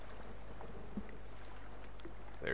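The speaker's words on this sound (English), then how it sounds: "Like that, like the sound of your paddle." A paddle dips and swishes softly through water as a small boat glides along in The Forest, faint and sparse over a low steady hum, with a brighter splash near the end.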